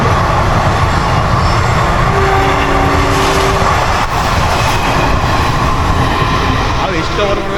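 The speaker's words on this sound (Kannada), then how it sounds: "ಟ್ರೈನ್ ಹೋಗ್ತಿದೆ." A passing train rumbles loudly and continuously, with a broad steady roar and faint tonal squeals midway, heard from close by or aboard.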